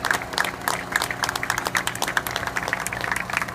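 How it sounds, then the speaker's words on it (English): Applause from a crowd at a charity walk event on Long Island, a dense patter of many hands clapping that stays lively and fairly close throughout. "Let's give them a big round of applause."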